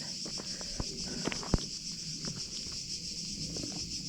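Insects such as crickets and cicadas buzz in a steady, continuous high drone across dry, desert-like countryside, with a few faint footsteps and rustles close by.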